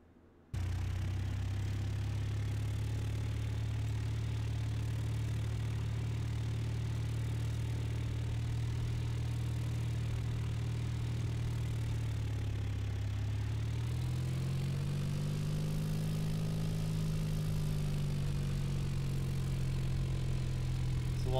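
A simulated aircraft engine in the X-Plane 10 flight game drones steadily while taxiing, a smooth low-pitched hum at constant level that shifts slightly upward in pitch later as power changes, with no talking over it.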